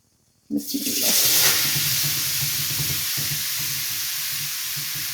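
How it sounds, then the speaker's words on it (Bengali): Grated carrots, about four cups, hit hot ghee in a pan for carrot halwa, bursting into a loud sizzle that settles into a steady, close frying hiss with faint stirring. "দিয়ে ঘির মধ্যে পাঁচ মিনিটের মতো ভেজে নিব"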